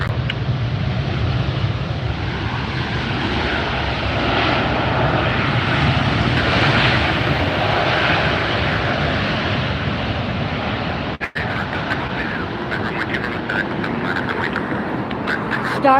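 A heavy Starlux Airbus jet lands at Los Angeles International Airport with a loud, sustained engine roar close by that fades slightly near the end, and nobody speaks.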